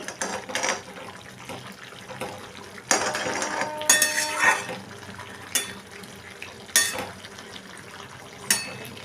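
Food being stirred in a pan while cooking a spiced taro dish, with intermittent scraping and clinking of a spoon against the metal, a few sharper knocks, close and moderately quiet.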